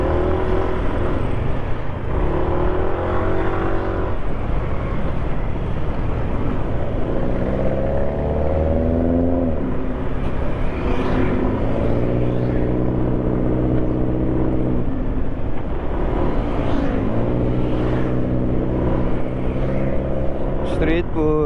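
A Yamaha NMAX scooter being ridden, its engine droning steadily with rising and falling revs over about twenty seconds, loud and close, with a voice talking over it at times.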